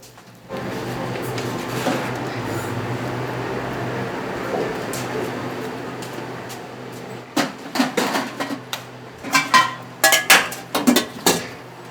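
Clinks and clatters of dishes and utensils as side dishes are prepared in a makgeolli bar kitchen in Jeonju, quiet at first, then a run of sharp, close knocks and taps near the end.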